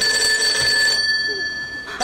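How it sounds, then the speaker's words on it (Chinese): A telephone rings in a comedy sketch about a staged robbery, a steady electronic ringing tone that holds loud for about a second and then continues more faintly. "大姐，你来电话了。"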